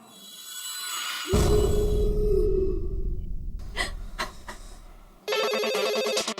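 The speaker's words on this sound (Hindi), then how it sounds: "राजा को फोन करो ताकि अपना प्लान आगे बढ़े।" A telephone rings with a bright electronic ringtone, preceded by a low rumbling and a few short tonal beeps.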